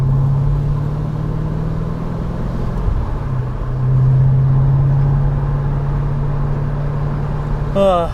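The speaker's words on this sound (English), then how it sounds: "my car will be cold so it won't be as loud as it is now anyway" A car engine hums steadily while driving, a low, constant drone that shifts slightly in pitch, with a brief higher sweep near the end.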